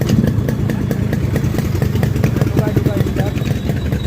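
A Yamaha RXS115 motorcycle engine runs steadily up close, a loud rapid chugging throb with some mechanical clatter throughout.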